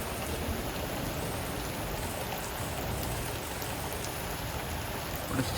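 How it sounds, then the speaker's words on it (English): Heavy rain from a severe thunderstorm pours down as a dense, steady hiss of drops hitting surfaces, close and constant, with no thunder or voices. "we're seeing some of this heavy rain now"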